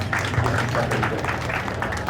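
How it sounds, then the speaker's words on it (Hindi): Crowd clapping at a railway division's Independence Day ceremony in Moradabad, a steady, dense wash of applause with a voice talking over it. "तालियां नहीं रुकनी चाहिए।"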